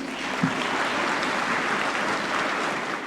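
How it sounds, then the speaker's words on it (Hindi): A large audience at the Swadesh Conclave 2023 stage event bursts into loud, dense applause that holds steady and continuous from start to finish, with no talking heard. "इसके लिए जोरदार ताली होनी चाहिए।"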